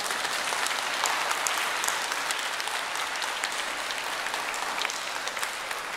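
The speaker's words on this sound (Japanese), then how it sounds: "吹奏楽部の皆さんにもう一度盛大な拍手をお願いいたします" A shopping mall audience at the AEON Mall Futtsu event gives sustained, even applause for the Takushoku University Koryo High School brass band, a crowd's clapping filling the space without a break.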